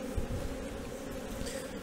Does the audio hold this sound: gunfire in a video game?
no